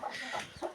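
A small chick of a black feather-footed hen gives a few faint, quick peeps and clucks, soft and close in a quiet space.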